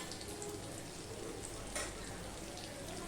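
Pointed gourd and potato frying in a covered pan with turmeric and ginger paste, a dense, even sizzle running steadily throughout with a brief louder crackle near the middle.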